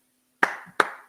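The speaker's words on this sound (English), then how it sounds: "So I applaud him," Three sharp hand claps ring out in a quiet room, spaced evenly about every third of a second, each crisp and close with a short decay.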